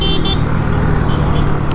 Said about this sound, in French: Quand tu veux passer, il faut que tu klaxonnes.